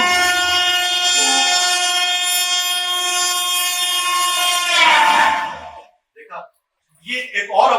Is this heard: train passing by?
yes